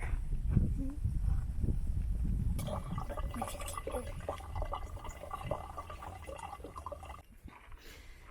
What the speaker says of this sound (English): we're purifying water from the creek in our backpacking water purifier